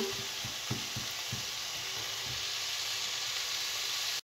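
Ground meat cooking in a pan gives a dense, steady sizzle, with a few soft knocks of stirring early on.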